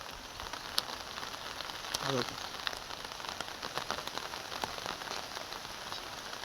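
Heavy monsoon rain pours during a flood in Konkan, a dense steady hiss of drops striking surfaces with occasional louder splashes, continuous and close.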